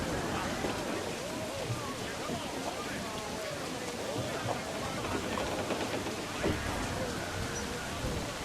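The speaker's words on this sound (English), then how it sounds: "Storm, Captain! Looks bad!" A storm at sea in Assassin's Creed IV Black Flag brings a steady roar of heavy rain and wind with low rumbles of thunder, loud and continuous, while voices call out over it.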